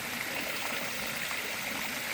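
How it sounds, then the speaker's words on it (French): A small stream trickling outdoors during a cold, stormy bivouac, a constant close babble and hiss of running water with no breaks and no voices. "il y a un petit ruisseau"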